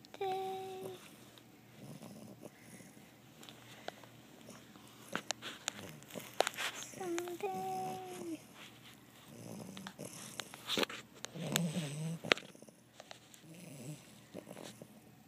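Coop the dog snores in slow, rasping breaths, close to the microphone and fairly quiet, with some shuffling and a few small rustles between the snores.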